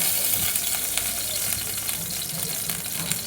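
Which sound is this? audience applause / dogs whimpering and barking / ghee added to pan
ghee added to pan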